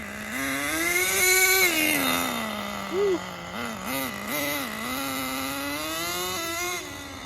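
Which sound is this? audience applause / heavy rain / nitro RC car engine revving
nitro RC car engine revving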